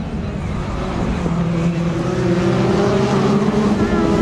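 An orange Chevrolet Cruze touring car driven in a World Touring Car Championship race, its engine a loud, sustained, rising drone with tonal harmonics, joined by other race cars close by.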